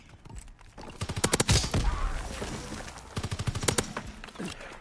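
Bursts of rapid automatic gunfire from the World War II shooter Call of Duty WW2, two clusters of sharp cracks at close range with quieter ambient game noise between them.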